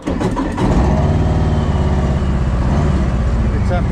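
A Harley-Davidson motorcycle engine starts and settles into a loud, close, lumpy idle with a deep rhythmic throb. A voice is briefly audible at the start.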